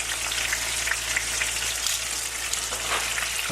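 Gafftop catfish fillets sizzle and crackle steadily in a frying pan, a dense, continuous hiss with scattered pops throughout, close and even in loudness.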